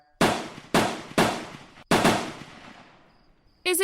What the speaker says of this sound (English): We sat there motionless, listening to the gunfire.